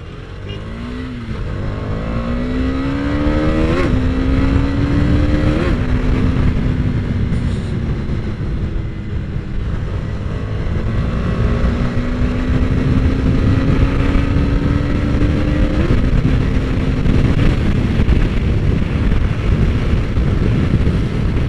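A Husqvarna Svartpilen 250 motorcycle ridden on the road, its single-cylinder engine loud and close, rising through revs in repeated pulls with gear changes between, over steady wind rush for the full stretch.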